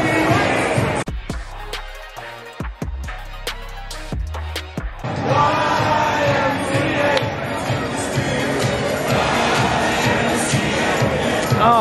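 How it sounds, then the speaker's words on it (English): A crowd at Yankee Stadium roars and cheers, the sound broken by a few sharp gaps early on before settling into a loud, sustained wall of voices. "Crowd is going crazy. Let's hear it."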